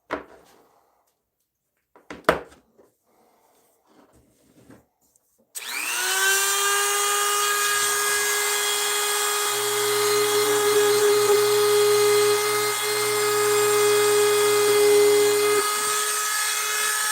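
Woodshop power drill fitted with a small bit, spinning up after a few quiet handling knocks into a loud, steady high-pitched whine that holds for about eleven seconds, close by, before cutting off.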